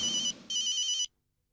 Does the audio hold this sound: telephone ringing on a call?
yes